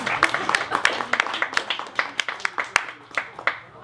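Scattered clapping from a small crowd at a speech on a campfire tour, individual hand claps clearly separated and fairly close, thinning out toward the end.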